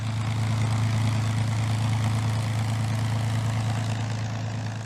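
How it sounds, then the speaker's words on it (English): A P-51 Mustang propeller aircraft engine drones steadily with a strong low throbbing hum, constant and fairly close, with no voices. "And it has a sound all of its own. There's no sound for like the P-51."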